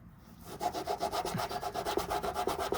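Rapid back-and-forth scrubbing on a 2017 Nissan Maxima Platinum, loosening emblem adhesive with WD-40 and an old kitchen sponge, a close rhythmic rubbing that keeps a steady fast pace, with no talking.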